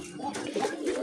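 Pigeons being let out give a brief, soft, low coo close by, lasting only a moment.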